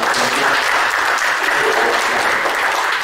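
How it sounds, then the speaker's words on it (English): Loud, steady applause from a crowd, continuous clapping filling the whole stretch without a break. "Arya Fernandez, ini kasih applause"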